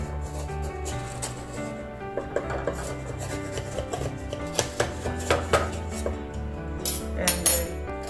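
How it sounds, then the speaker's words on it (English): A blunt knife scrapes around the metal rim of a springform pan holding a warm French apple cake, a run of close rasping strokes and light clinks that grows sharper and more distinct toward the end. "we are going to run a blunt knife along the edges"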